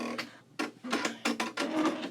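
An embroidery machine stitches a bag tag with short, choppy bursts of mechanical whirring and clicking, starting and stopping in an irregular rhythm, close and fairly loud.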